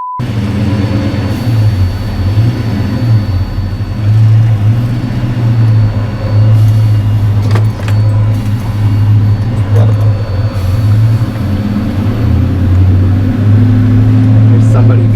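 A truck with a freshly swapped 6.2L engine, not yet tuned, runs steadily throughout with a low, rough droning idle and slight surges in pitch, while people talk over it.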